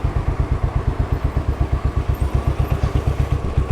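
A 2023 Royal Enfield Bullet 500 single-cylinder motorcycle thumps steadily while riding, its loud, even low-pitched exhaust pulses close and continuous with no talk.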